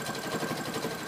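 Steady, even whirring of a sewing machine stitching a small seam on a skirt, running continuously with a fast mechanical pulse and no voices.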